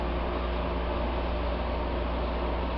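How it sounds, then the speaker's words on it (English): A McQuay water source heat pump runs steadily, giving a constant broadband whir over a strong low mains hum, unchanging for the whole stretch with no talk. "that's the running noise"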